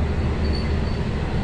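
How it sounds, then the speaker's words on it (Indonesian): A steady, heavy rumble of the Menoreh passenger train rolling past close by through a station in Indonesia, loud and continuous with a faint high squeal from the wheels. "Nih kereta api menoreh melintas langsung"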